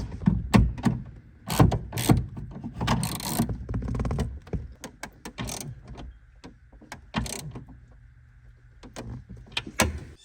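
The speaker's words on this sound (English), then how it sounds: "now I'm going to tighten these steering column bolts." Steering column bolts being tightened on a 1987 Chevy K10: clustered metallic ratchet clicks and clunks in bursts, with quieter gaps and rustling handling noise in between, recorded up close.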